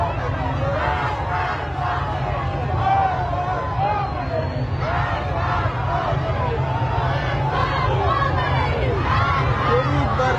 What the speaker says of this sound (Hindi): इस्लामी शासन के खिलाफ ये नारेबाजी हमने आपको सुनाई।